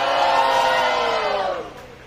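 Spectators at a Dia do Hip Hop rap and dance battle cheer and whoop loudly, a thick continuous crowd roar that holds steady before dropping away toward the close.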